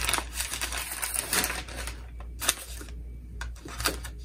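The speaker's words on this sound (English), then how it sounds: "Let's get it cut open and see exactly what is in there." A cardboard parcel box from the post office being cut open, with scratchy slicing and scraping strokes up close, followed by a few sharp clicks and rustles, no talking.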